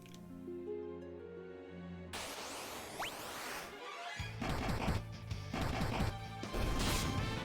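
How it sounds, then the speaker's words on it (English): A critical-hit punch impact in the Final Fantasy V remaster lands as a loud, sharp crashing smack, heard alongside layered game music and battle effects with several further punchy hits in quick succession. "Oh, that's the sound of a crit."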